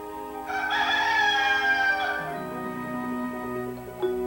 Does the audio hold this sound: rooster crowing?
yes